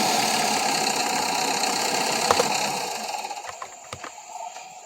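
Steady engine rumble of cars passing in Farming Simulator 17, loud at first, then fading away and leaving a few faint knocks.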